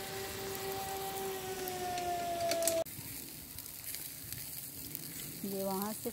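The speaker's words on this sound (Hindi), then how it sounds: "आग बुझाने वाली गाड़ी वो जा रही है।" A fire engine siren wails with a steady tone over sizzling noise that cuts off abruptly as it passes; near the end a rising siren sweep starts up again.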